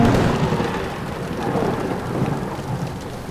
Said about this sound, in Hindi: यार बारिश भी तो हो रही है ना